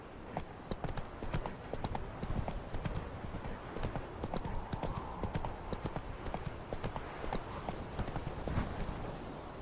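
Roach, a horse in The Witcher 3, trots with quick, rhythmic clip-clop hoofbeats that continue steadily throughout at moderate loudness.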